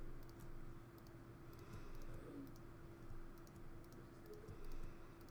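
Computer keyboard keys pressed repeatedly while working in Photoshop, a run of light irregular clicks in small clusters over a steady low room hum.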